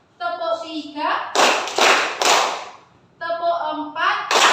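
Children in a classroom clap in unison as part of a counted clapping routine, giving three sharp, loud claps between stretches of an adult voice calling the count.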